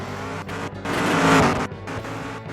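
Pro Mod drag race cars at a strip, a loud broadband engine roar that swells and fades over a couple of seconds as the cars pass, with no voices over it.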